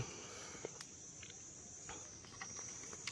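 Insects chirp by a pond near an old underground power station bunker, a steady high, thin buzzing drone that holds throughout at low volume with faint scattered ticks and rustles, no voices.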